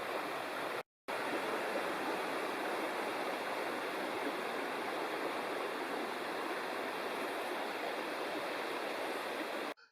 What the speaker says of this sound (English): Here's the Ball River I'm walking beside, and an amazing amount of water